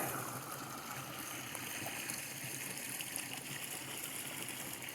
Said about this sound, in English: Check this out, little waterfall right here.